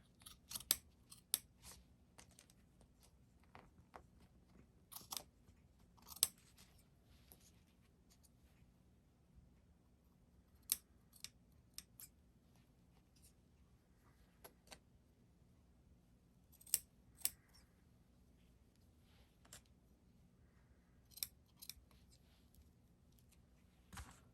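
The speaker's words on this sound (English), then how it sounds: "take your scissors and cut a V out here." Scissors snip out a V shape in craft material for a small gnome ornament, giving faint, sparse, crisp clicks and short snips spread over a quiet stretch.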